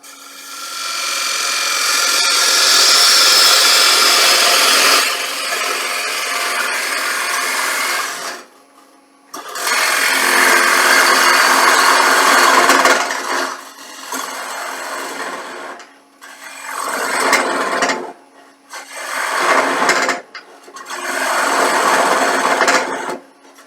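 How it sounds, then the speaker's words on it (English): A gouge makes sustained cuts into a wooden bowl spinning on a lathe during a live turning demonstration: loud, rasping passes, one long and several shorter, separated by brief pauses, with no talking. "This is a proper cut, sustained cut."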